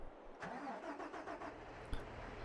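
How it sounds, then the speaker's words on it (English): A New Holland tractor engine cranks and starts in the Farming Simulator 22 game, a brief mechanical turnover settling into a low idle, fairly quiet and with no talk. "Nice New Holland tractor."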